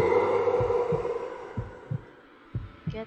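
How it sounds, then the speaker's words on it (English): Heartbeat in the horror game House of Celestina: a low, muffled thumping in paired beats, repeating at a slow steady rhythm over a fading tonal drone, close and distinct. "a heartbeat."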